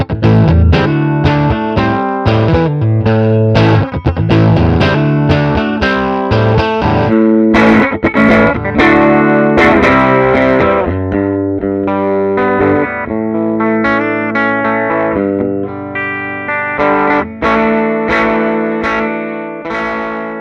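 An electric guitar played through a tube amp, loud and continuous, strumming distorted chords with chorus-like shimmer and quick picked phrases. It runs without pause and with no voices.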